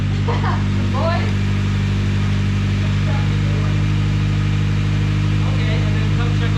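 A turbocharged D16Y7 engine in a Honda Civic, running just after an oil pan gasket job, holds a loud, steady, throbbing idle throughout, with faint voices now and then.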